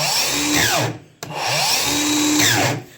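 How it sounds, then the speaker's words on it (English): A Makita 8.5-inch miter saw motor spins up with a rising whine, runs loud and close, and cuts off briefly before a second identical start and run, its pitch sweeping as it ramps. "I do like the sound of the motor on the Makita a little better"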